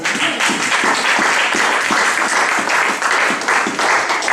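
A church congregation applauding to acclaim the Lord during a sermon. Steady, dense clapping from many hands goes on for several seconds at an even level, with no talk over it.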